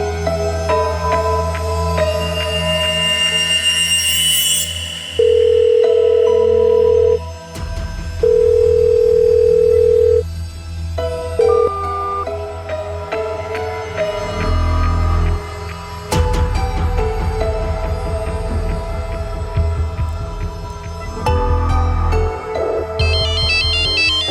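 A telephone rings loudly for an incoming call in a Hindi crime drama scene. The electronic ringtone's steady tones repeat in pulses over about twenty seconds, mixed with tonal music and effects.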